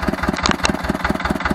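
An Ursus C-325 tractor engine runs steadily nearby with a regular, pulsing diesel thump, loud and close, with no voices over it.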